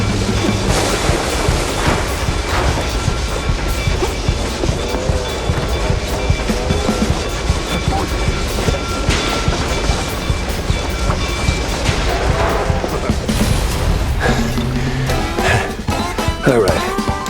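Train rumbling past in the detective game Mouse: P.I. for Hire, a loud continuous clatter with a steady mechanical drone and rhythmic rail clacks under game music and effects throughout.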